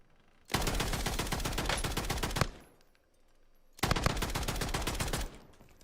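Rapid automatic gunfire from a first-person shooter video game rattles out in two loud, sustained bursts a couple of seconds each, separated by a brief quiet gap, with no one speaking.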